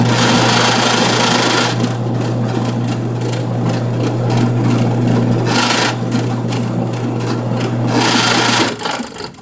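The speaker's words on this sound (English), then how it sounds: "I've got my little slicker pulley with a bolt into my drill press" A drill press's steady whir with a constant low hum, joined by rough rubbing and friction noise as a slicker burnishes a leather edge, swelling and easing in rhythmic passes, loud and close.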